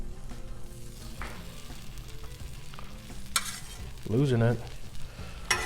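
Shrimp fajitas on a Blackstone griddle with the burners off, a close, steady sizzle and scraping stir as food is scooped onto the hot flat-top, while someone talks briefly over it.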